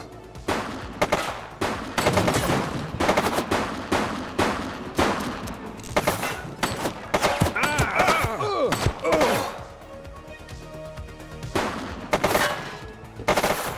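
Rapid bursts of gunfire from a suspect in The Precinct, a police game set in an 80s crime city, crackling loudly and almost continuously with brief lulls for several seconds.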